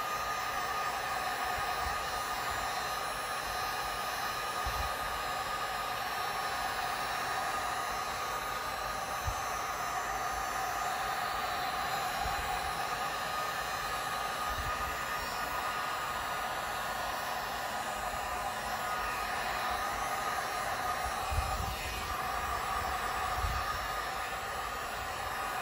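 A heat gun set to low blows steadily over resin for a geode three-tier cake tray, a continuous airy hiss with faint occasional knocks, no voices.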